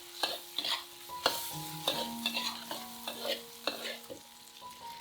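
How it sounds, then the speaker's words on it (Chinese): Garlic cloves stir-fry in hot oil with pork belly, heard as a busy sizzle broken by repeated sharp spatula strikes and scrapes against the wok, close and fairly lively, with no talking. "肉的香味炒出来之后，我们放蒜瓣，把蒜瓣爆香"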